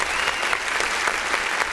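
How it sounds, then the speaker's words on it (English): Hand clapping runs through a played song as a dense, steady wash of claps that fills the whole stretch at fairly loud level. "Why you clap? Stop it."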